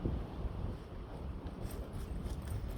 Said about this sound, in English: we do have a wind advisory, and it is quite windy